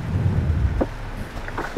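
Rain drumming on a car during a drive on a wet road, a steady dense hiss with low rumbling road noise beneath and a few brief knocks.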